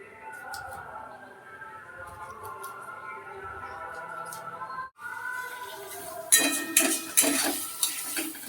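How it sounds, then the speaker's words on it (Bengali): Tomato pieces frying with spices in a pan for a Bengali ghugni, with steady low sizzling and scraping stirs, then louder clattering utensil strokes near the end; no talk over it. "মশলাটার সঙ্গে টমেটোটা ভাজা হবে।"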